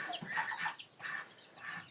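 A young rooster in a household poultry yard gives several short, quiet clucks in quick bursts, close by and faint.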